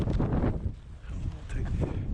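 Gusty wind buffets an outdoor street scene, rumbling in uneven surges close to the microphone.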